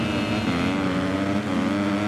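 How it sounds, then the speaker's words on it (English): Supercross motorcycles rev together at the start of a race in the video game Monster Energy Supercross 3, a steady, dense engine drone that holds at the same loudness throughout, with no talk over it. "As she revs it up alongside Nichols and McAdoo and Marchbanks, and away"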